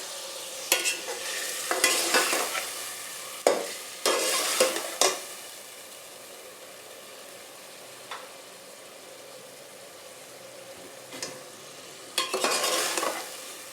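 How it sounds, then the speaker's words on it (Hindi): Spices sizzle in a hot pan while being prepared for macaroni, with a low frying hiss broken by several sharp bursts of stirring and scraping that come and go, and no talking. "थोड़ा सा भून लें और फिर इसमें मिर्ची वगैरह डालते हैं।"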